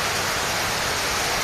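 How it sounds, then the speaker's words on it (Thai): Rain falling steadily outdoors during a bird-trapping outing, a dense, even hiss that fills the short moment without pause or voices. "ฝนตกพี่น้องฝนตก"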